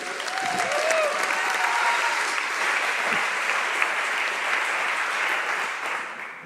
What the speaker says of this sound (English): Please, again, a big warm applause for Candice Francis.